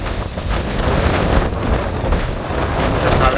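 Big sea waves roll in steadily during a storm off the Jaffna coast, with strong wind buffeting the microphone in a loud, continuous roar and no voices heard.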